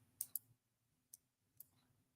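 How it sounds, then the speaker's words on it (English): A few faint, crisp key clicks in an otherwise quiet room, sparse and irregular like light mechanical keyboard typing. "How loud is my mechanical keyboard?"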